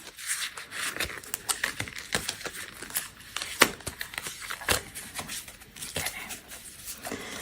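Tarot cards being shuffled in a quiet ASMR setting, a close, irregular run of crisp flicks, snaps and riffling taps with no voice over them.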